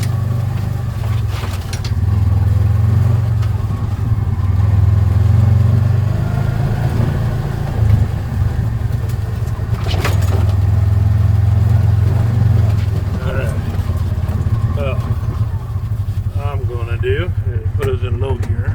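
Side-by-side utility vehicle in low gear driving across rural Arkansas land, its engine a steady mid-low drone throughout, loud and close, with someone talking over it much of the time.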